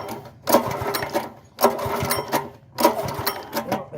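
An engine cranking over on its starter in a garage with the ignition on, in three separate bursts of rapid, churning mechanical chatter, each lasting about a second with short pauses between.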